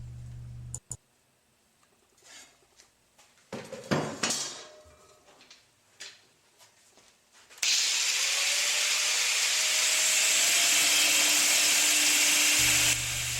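A 1075 steel bar, 1 inch wide and 3/8 inch thick, is being cut to length: scattered metallic clanks and handling knocks, then a loud, steady whining saw cut running continuously to the end.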